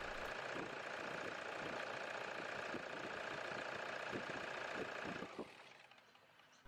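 A Toyota Hilux engine runs after a timing belt replacement, idling with a steady close mechanical clatter and ticking knock, then cutting off near the end.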